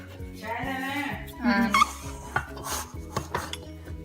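A knife runs around the edges of a mini heart vanilla cake pan after brief cooling, giving a few light metallic scrapes and clinks over quiet background music, with someone speaking.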